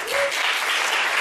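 Applause greeting a speaker at a Spanish-language public education rally, a dense steady wash of many hands clapping close by, with a brief voice at the very start.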